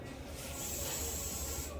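Hard-hold hair spray hisses from a can onto twisted, pulled sections of hair during a styling lesson, a soft continuous spray lasting about a second under faint room noise.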